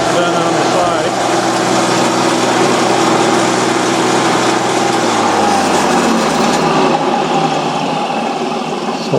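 A Coleman Onan small engine converted to belt drive runs steadily and loud throughout, a dense high-pitched mechanical drone with a slight drop in pitch partway through.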